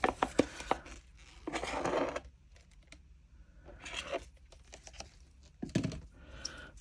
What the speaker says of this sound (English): So I'm just going to scrape out the rest of what I've got in my pot